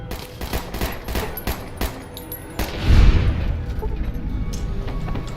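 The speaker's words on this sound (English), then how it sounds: "let's keep using my 9mm" A 9mm pistol fired in Fallout: New Vegas, heard as a series of soft, scattered shots over a busy game background, with a heavier thump partway through.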